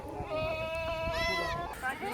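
Goats and baby goats kept as milk goats bleat in wavering, tremulous cries close by, while someone talks over the calls.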